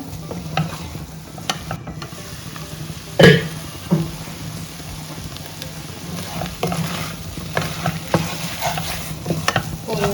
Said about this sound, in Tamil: ஸோ இப்போ கிளறி விட்டுட்டு இது ஒரு 5 to 10 மினிட்ஸ் ஸ்லோ ஃப்ளேம்லேயே வச்சு இப்படி பண்ணிக்கலாம்